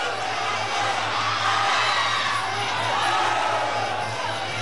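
A crowd at a Muay Thai fight cheers and shouts in a steady, roaring wash of voices, with a commentator talking over the noise.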